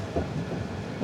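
A train pulls out of Feni junction in Bangladesh with a low, steady rumble of rolling wagons. It is brief and moderately loud, with a slightly heavier surge at the end.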